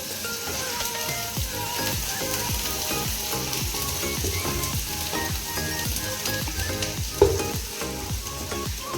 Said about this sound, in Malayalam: ഇനി ഇത് നന്നായിട്ട് വഴറ്റിയെടുക്കാം